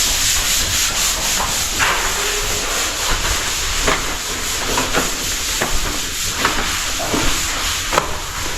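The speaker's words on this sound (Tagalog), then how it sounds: "Kaya lang minamano-mano pa rin nila kahit gumamit tayo ng sanding machine." A sanding machine works over gypsum board in a steady, loud, hissing rub with brief scraping pulses repeating every second or so, and no talk.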